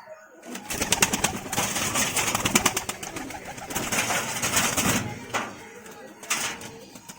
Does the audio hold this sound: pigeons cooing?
yes